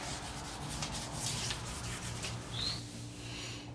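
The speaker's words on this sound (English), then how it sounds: "after sanding with the 2000 grit soapy sandpaper" Wood on a pedestal table being sanded with wet 2000-grit soapy sandpaper gives a continuous soft rubbing hiss, close and quiet, with no talk.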